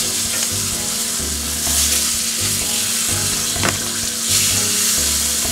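Fish fillets frying in a hot skillet give a close, steady sizzle that continues for the whole stretch, with slight swells in intensity and a brief sharp crackle partway through.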